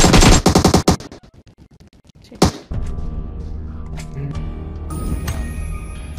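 Rapid bursts of automatic gunfire from PUBG Mobile open loudly, then a single sharp shot and a thud, followed by steady game ambience and mechanical noise.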